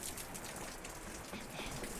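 Fingers tapping on a table or knee to imitate falling rain make a dense, steady, close patter that sounds much like real rain on a surface and continues unbroken throughout.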